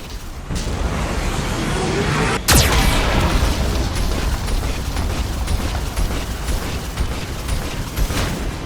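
Geth cannon blasts in the sci-fi video game Mass Effect 2, a sudden sharp boom followed by a dense steady roar of rumbling combat noise, loud and close throughout.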